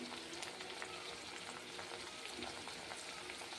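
Dried curry leaves frying in oil for a homemade lemon pickle give a steady, dense sizzle with fine crackling pops, quiet and continuous throughout.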